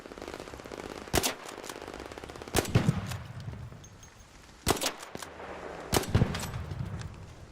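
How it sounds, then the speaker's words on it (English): Gunfire in the video game Arc Raiders comes as four loud, sharp bursts spaced a second or two apart, each one quick and rattling, with a rumbling ambience between the shots. "Somebody's shooting at me."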